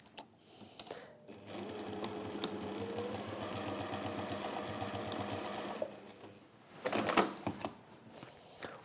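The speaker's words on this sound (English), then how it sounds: "And then sew." A sewing machine stitches the darts of a fabric pouch, running in a steady mechanical whir for several seconds at close range, then stopping, followed by a few brief handling clatters.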